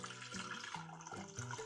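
Water pours steadily from a tap into a small pot holding three eggs and hibiscus tea packets, a continuous splashing stream at moderate level with no talk.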